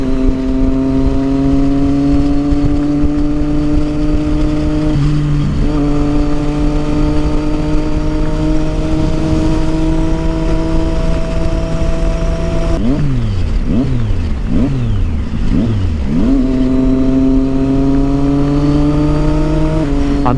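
A Triumph Street Triple motorcycle fitted with a Yoshimura exhaust rumbles loud and close at a steady idle, then gives several sharp throttle blips that rise and fall before settling back to a deep, throaty drone.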